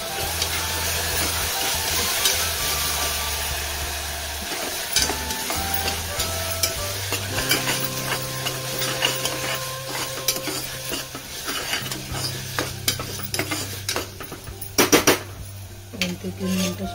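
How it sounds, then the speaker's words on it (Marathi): Ginger, garlic and coriander paste fries in a hot pan for a mutton trotters curry, giving a steady close sizzle broken by frequent spoon scrapes and metallic clinks against the pan. "अद्रक लसूण आणि कोथिंबीरची पेस्ट घालून"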